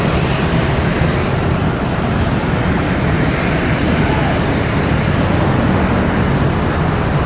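Buses roll in one after another at Pondok Pinang bus terminal in Lebak Bulus, giving a loud, steady wash of engine rumble and road noise that continues without a break.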